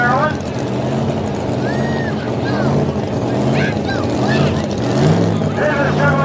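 A supercharged, alcohol-burning V8 Chevrolet two-wheel-drive truck at a tractor pull in Leonardtown, Maryland, roars steadily in the background while an announcer talks over it.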